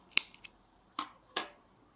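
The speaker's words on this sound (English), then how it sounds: "Cut the other yarn as well." Scissors snipping through crochet yarn, a few sharp crisp cuts spaced apart, close and fairly quiet.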